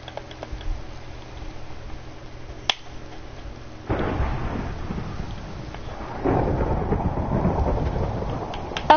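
Rain and rolling thunder in a video game world, a steady broadband wash of rainfall that swells louder partway through with low rumbling, plus one sharp crack early on; no talking.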